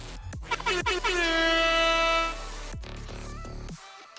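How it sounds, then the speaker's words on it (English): A loud, blaring air horn sound effect from a Discord soundboard sounds in a few quick staccato bursts, then swells into one long sustained tone before cutting off. "Plus you can do the air horn."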